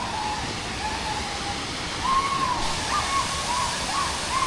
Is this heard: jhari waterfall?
yes